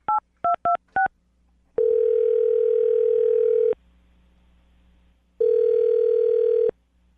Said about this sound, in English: I'm going to dial the phone number, okay?